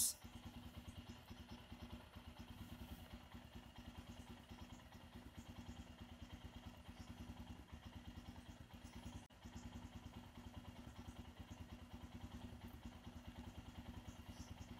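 A Royal Enfield Himalayan motorcycle engine runs steadily in first gear with the rear wheel turning, a constant close mechanical drone with faint clattering throughout, heard alone.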